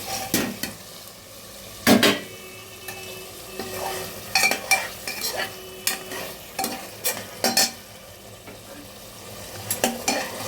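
Paneer goes into hot oil in a pan and is stirred, with a low sizzle beneath repeated sharp clinks and scrapes of a utensil against the metal pan in irregular bursts, close and clear, no talking.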